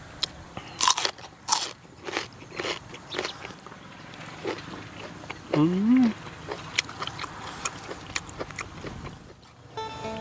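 Blanched beef tripe, eaten with dipping sauce while seated out in a rice field, crunches and squelches under close, repeated bites in an uneven chewing rhythm, with a brief hummed voice partway through.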